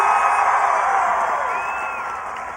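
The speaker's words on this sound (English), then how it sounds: "I want everyone to cheer and clap as loudly as possible" A graduating high school class cheers, whoops and claps at full volume, a dense, continuous crowd roar that fades slightly toward the end.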